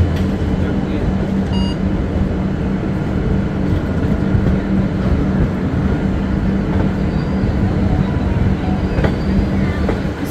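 The Mithila Express, a passenger express, rolls steadily along the rails past Sagauli Junction onto a diverging line toward Barauli, with a constant loud rumble and rattle heard from inside the coach.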